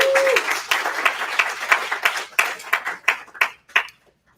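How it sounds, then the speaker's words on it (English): An audience at a launch party claps for a presenter, brisk applause that thins into a few scattered, separate claps and fades out, with a brief tone at the start. "Give him a round of applause, ladies and gentlemen."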